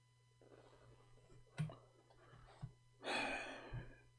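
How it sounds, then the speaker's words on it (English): A caller breathes close into a microphone on a phone line, soft breaths and a sharper gasp-like inhale followed by a longer airy exhale, faint over a low steady electrical hum, with no words. "We hear you breathing"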